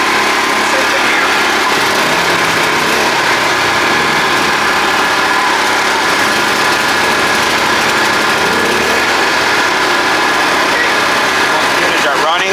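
A pair of WEN portable generators runs steadily together, a loud, continuous buzzing engine drone that holds constant throughout with no pauses.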